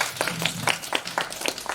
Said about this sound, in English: let's give him a round of applause for Javon